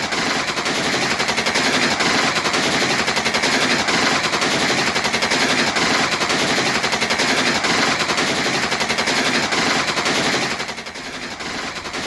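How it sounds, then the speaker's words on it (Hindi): Sustained automatic gunfire from Ukrainian soldiers fighting in Mariupol, a loud, dense, unbroken rattle of rapid shots that keeps going for several seconds before easing slightly near the end, with no voices. "गोलियों के तड़तड़ाहट को सुनिए और बिना रुके बिना थके ये सैनिक, यूक्रेनी सैनिक लगातार फायरिंग कर रहे हैं"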